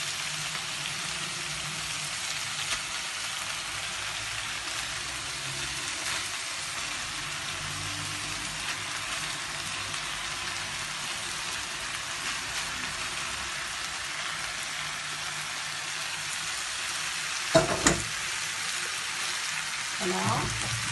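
Noodles with fried chicken sizzle steadily in a pan, a continuous crackling hiss, broken near the end by a few louder clattering stirs.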